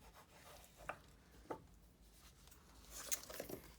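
Glued paper is pressed and burnished down over a ribbon by hand, soft rubbing and scraping strokes with a few sharper crinkling taps, close and quiet with no talking.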